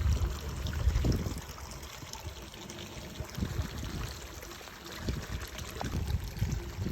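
Spring water at Soda Springs trickling and pouring in a steady, soft stream, with gentle splashes and brief surges throughout, fairly near and alone without talk.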